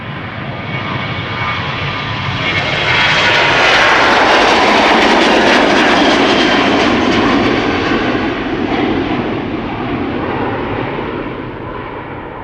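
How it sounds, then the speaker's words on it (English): A KLM Boeing 737 jet departs Amsterdam Schiphol with a loud, broad engine roar that swells to a peak around the middle and stays strong, steady and close throughout. "American Dreamliner in the background and a KLM 737 here in the foreground."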